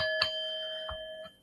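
A bell alert chimes a few times in a brief ding pattern, with a sustained ringing tone between strikes, fairly clear and close, with no voices.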